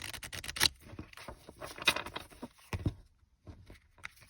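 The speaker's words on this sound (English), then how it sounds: "One more shuffle." Tarot cards being shuffled in a few quick, papery riffling bursts, close up and fairly loud, with short pauses between them and no talking.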